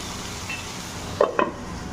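Okra frying in a pan with spices gives a soft, steady sizzle, broken by two short clinks of a utensil stirring against the pan.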